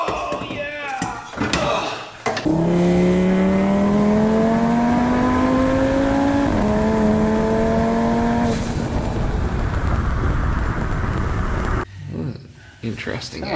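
A sheriff's car passes on the road with a rising, wavering tonal wail lasting several seconds over a loud rush of traffic noise, before fading back to quieter surroundings.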